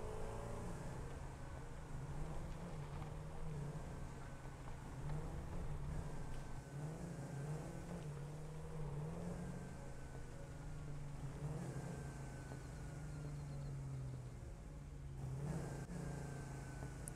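Explorer vehicle driving over rough ground in the video game Satisfactory, a steady droning engine hum that rises and dips as it revs, continuous and moderately loud with no talking.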